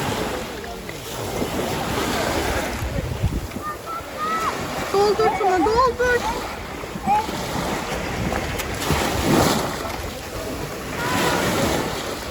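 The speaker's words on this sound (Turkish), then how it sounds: "Dalgalara bakın." Sea waves wash onto a beach in rising and falling surges, mixed with gusty wind buffeting the microphone, while an adult talks and a voice chimes in nearby.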